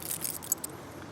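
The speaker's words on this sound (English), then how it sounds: "Can't go too far without keys." A facility manager's large bunch of keys, kept on a hook on a belt, jangles with bright metallic clinks, including a couple of sharper chinks, close by and without talk.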